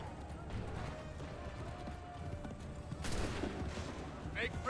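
Musket volley gunfire in Assassin's Creed III, a crackling burst of shots amid battlefield noise and hoofbeats, mixed with shouted orders.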